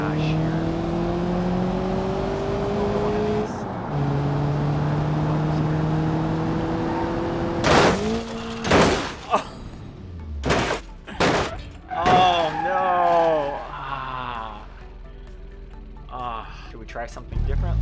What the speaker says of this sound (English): Let's go for a crash here.